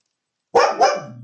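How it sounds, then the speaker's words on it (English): A dog barks at the neighbors indoors, giving two loud, close barks in quick succession, the second trailing into a lower growl-like tail. "is right now barking at the neighbors"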